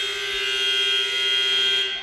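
Loud, sustained electronic buzzer sounding at halftime in a college men's basketball gym, a steady harsh tone lasting about two seconds before cutting off.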